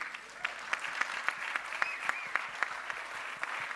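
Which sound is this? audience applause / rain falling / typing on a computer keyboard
audience applause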